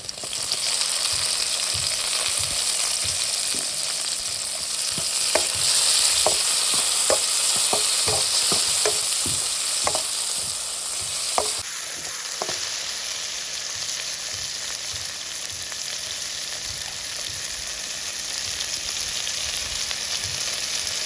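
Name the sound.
tomatoes added to frying onions, sizzling while stirred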